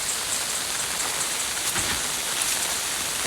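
Dense, steady rain pours without pause over rice fields, a continuous close hiss with no voices.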